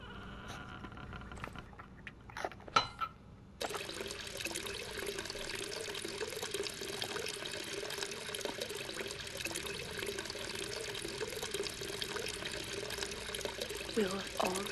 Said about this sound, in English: Fill it all the way, and then you want to boil the water.